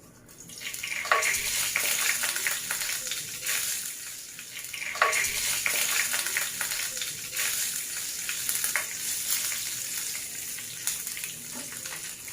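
Whole spices (cardamom, cloves, cinnamon sticks, bay leaves) sizzle steadily in hot oil in a pan for a brinjal chaat, a continuous bright crackle with a few louder bursts as they are stirred, no voices.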